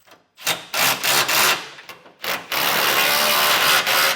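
Ratchet and socket snugging down trailer hitch bolts on a 2015 GMC Sierra 1500, heard as close, loud bursts of rapid clicking and grinding, separated by short pauses, then one longer continuous run.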